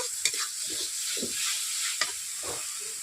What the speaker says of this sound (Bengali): কাশ্মীরি লঙ্কাগুলি দেওয়ার পর আমি এইভাবে মেলে নিচ্ছি এক মিনিট মতো